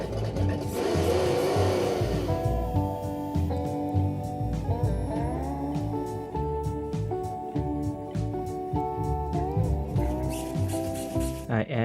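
A supercharged V8 engine note revs from an RC 1969 Camaro, rising and falling in pitch in repeated bursts, close and fairly loud throughout.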